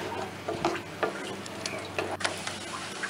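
A carrot and tamarind pickle mixture sizzles in a pan while being stirred, with soft scraping strokes and light clicks of the utensil over a faint, steady frying hiss.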